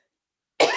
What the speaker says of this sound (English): They're making me cough.